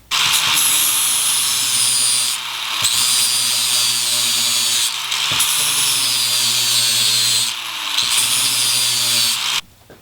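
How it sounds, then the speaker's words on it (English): A power tool shaves an aluminum part for an 88 steering wheel being fitted to a 98 Jeep XJ, making a loud, steady high-pitched whine in long runs broken by brief pauses. "I ended up shaving the aluminum as you saw"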